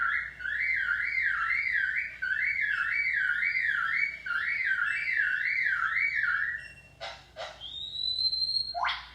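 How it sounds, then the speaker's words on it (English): A car alarm wails in repeated rising-and-falling siren sweeps, loud and close, then switches to a few sharp chirps and a steady high tone. "And that's a car alarm."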